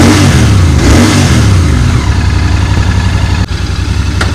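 Royal Enfield GT 650 motorcycle engine revving, a loud, close throttle blip rising then settling into a throbbing idle with a steady pulsing rhythm.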